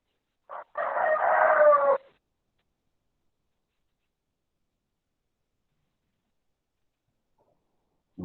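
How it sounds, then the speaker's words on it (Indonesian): A rooster near a chicken coop lets out a single loud crow lasting a little over a second, followed by a long stretch of near silence. "Amanda lagi di dekat kandang ayam ini, ada suara ayamnya."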